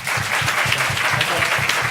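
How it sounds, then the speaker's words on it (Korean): Audience applause at a Korean youth debate forum, honoring two debate teams and their mentor professors: a dense, steady patter of many hands clapping at an even level for a couple of seconds. "또 그동안 지도해 주신 멘토 교수님들께 다시 한번 박수 한번 주시기 바랍니다"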